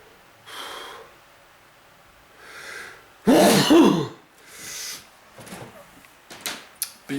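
A single loud, close sneeze from someone who has been sick for two years, a sharp burst after a few sniffs and breaths, followed by quieter snorts and throat noises in a morning indoor setting.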